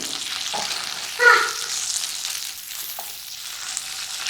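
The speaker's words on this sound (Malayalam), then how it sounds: "നമ്മൾ എടുത്തു വെച്ചിരിക്കുന്ന ഓരോ വെണ്ടയ്ക്ക് ഇങ്ങനെ എണ്ണയിൽ വെച്ച് ഫ്രൈ ചെയ്തെടുക്കാം അപ്പോൾ ഇനി നമുക്കതൊന്ന് ഇളക്കി കൊടുക്കാം" Okra fries in oil and gets stirred, producing a soft, steady sizzle with a few louder scrapes and clatters of the spoon against the pan.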